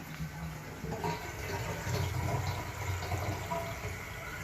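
A household toilet flushes nearby, giving a steady rush and gurgle of water that swells and continues through the whole stretch, with no voices.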